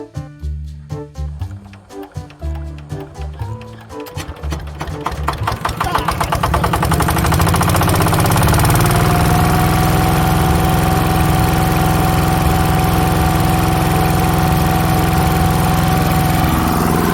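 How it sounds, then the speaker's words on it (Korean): Neglected walking tractor engine, left sitting for four months, cranks with uneven chugging for several seconds, then catches and settles into a loud, steady idle with continuous mechanical rumble and vibration. "조금만 더 하면 시동이 걸리겠습니다."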